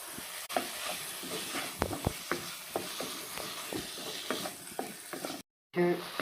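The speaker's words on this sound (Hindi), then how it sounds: "हमारी चिकन फ्राई हो गया" Chicken pieces frying in a pan for chicken vegetable buns, a constant sizzle broken by repeated close clicks and scrapes of stirring, with a brief cut near the end and no talk.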